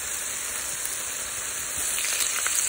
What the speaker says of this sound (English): We're adding additional olive oil.